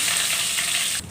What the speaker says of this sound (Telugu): కరివేపాకు వేయంగానే చిటపట అంటుంది.